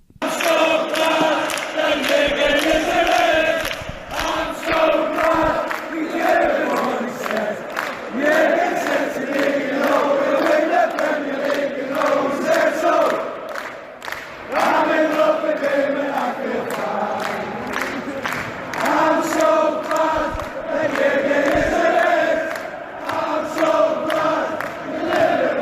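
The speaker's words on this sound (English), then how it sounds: "This is the song that they sing, that the crowd sings for Jurgen Klopp at Anfield." A large football crowd at Anfield sings the Liverpool supporters' song for Jurgen Klopp, a loud, sustained, reverberant mass of voices chanting in unison with a steady rhythm throughout and no clear individual speech.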